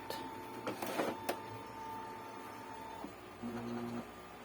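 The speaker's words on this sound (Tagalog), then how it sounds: "ngayon, try nga tayo mag-photocopy" An Epson printer whirs and hums steadily while running a photocopy, with a few sharp mechanical clicks at the start and a shift in motor tone near the end.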